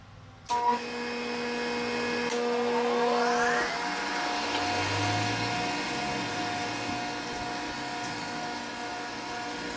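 A grinding stone works a Triumph crankshaft journal: a machine spins up to a steady whirring hum with a rising then falling tone. An early knock is followed by continuous mechanical drone, fairly loud and close.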